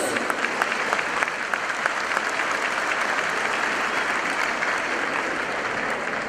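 A large audience at a national Catholic education convention applauds a speaker, a steady, dense wash of many hands clapping that holds at an even loudness throughout.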